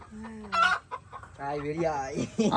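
Two village desi chickens cluck close by, short throaty clucks and squawks in quick irregular bursts, fairly loud and alone.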